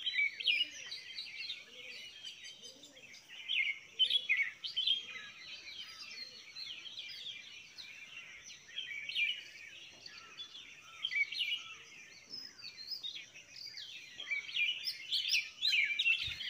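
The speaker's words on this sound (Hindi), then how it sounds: "गांव में कैसे चिड़िया की वॉइस आप लोग ने सुनी" Many small birds chirp and tweet in a village at dawn, a dense, steady chorus of overlapping calls that rises and falls continuously in the near distance, with no one talking.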